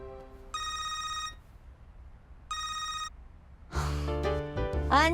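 A telephone rings twice on an outgoing call, each bright electronic trill lasting under a second with a pause between, followed by a sharp breath and a voice on the line.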